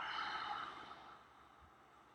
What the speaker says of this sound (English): Make a sound with your throat.